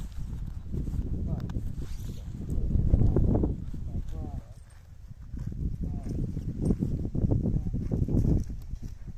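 Horses, including a mare with her foal, walk around a farm, their hooves clip-clopping in an uneven rhythm beneath nearly continuous conversation from people nearby.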